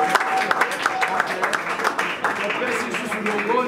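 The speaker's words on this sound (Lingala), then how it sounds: "Est-ce on peut pas applaudir quand même cette groupe?" Applause for a Congolese evangelist Christian group at a gathering, steady clapping from a crowd filling the space for several seconds, mixed with voices and some talk.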